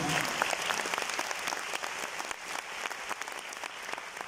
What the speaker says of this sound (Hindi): इसलिए जोरदार तालियां वेस्टिज के लिए।